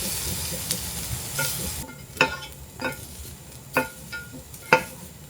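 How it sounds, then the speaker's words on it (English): Salmon cooking in a pot, frying and boiling with a soft steady sizzle broken by several sharp clattering knocks of utensils, close and alone with no talking. "To be honest, I think it's boiling more than it's frying,"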